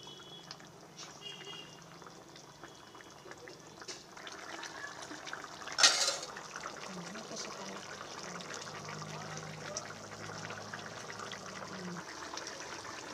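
Hot water poured into a pan of chicken curry cooked with spring onions, giving a steady liquid wash with one sharper splash partway through.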